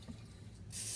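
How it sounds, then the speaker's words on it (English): Olive oil cooking spray hisses onto a waffle pan in a home kitchen, a short, loud, steady burst that starts near the end after a quieter stretch of low kitchen rumble. "Spray the top and the bottom so it won't stick."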